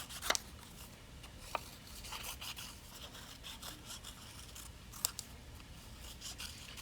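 Scissors cutting out colored paper drawings, quiet close snips and soft scraping of paper with a few sharper clicks, faint and intermittent without talk.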